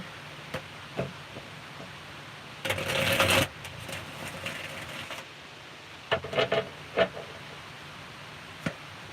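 Tarot cards of a Morgan Greer deck are shuffled close by, a dense riffling burst followed by scattered soft taps and shorter flurries of card snaps against a quiet room.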